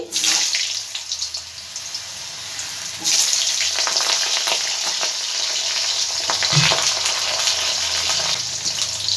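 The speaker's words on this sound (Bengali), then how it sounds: "প্রথমেই আমি আলুটা দিয়ে দিচ্ছি" Potatoes hit hot spiced oil for a mixed vegetable curry and sizzle loudly, the frying hiss swelling as more pieces go in and continuing steadily up close with no talking.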